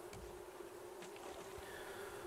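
Bees buzzing at beehives in the survival game Raft make a steady, faint, continuous hum with no talking over it.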